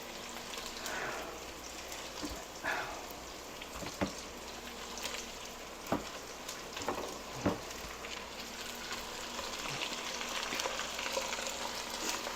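Mild Italian sausage fries in a pan, a soft, steady sizzle and crackle with a few sharper pops and light clinks scattered through, moderately quiet and even.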